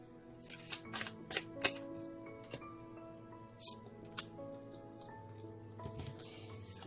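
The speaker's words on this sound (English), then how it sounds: "One more shuffle." Soft, quiet riffling and snapping of playing cards being shuffled, several quick flicks in bursts, close by with a faint hum beneath.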